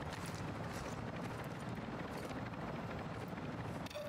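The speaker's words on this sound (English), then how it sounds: "I see a helicopter, another one." A helicopter flies in the video game DMZ, its rotor producing a steady rapid chopping thud under faint ambient game noise, moderately distant and even throughout.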